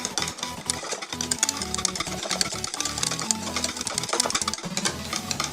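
An electric mixer beating butter cake batter in a home kitchen, a loud, continuous whirring motor drone with a rattling, buzzy edge, close up and without speech.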